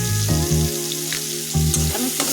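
White cooking oil poured into a pan of frying vegetables sets off a loud, close sizzle, with a spatula scraping and clinking in short bursts through the crackle; no talk.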